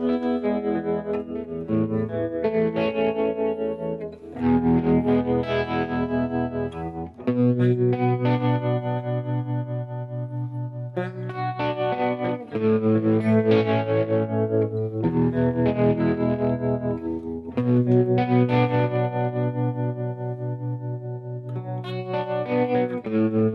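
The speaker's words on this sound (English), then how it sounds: "you can add a little bit of the tremolo." An electric guitar with a tremolo effect plays sustained, strummed chords and picked phrases in a steady flow, heard up close with no speech.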